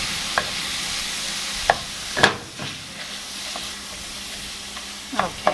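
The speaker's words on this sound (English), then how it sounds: "I'm going to break this up as best as I can into little pieces" Ground beef frying in a pan and being broken into small pieces with a utensil: a broad sizzle with several distinct scraping and tapping strokes, close and fairly loud, no talk.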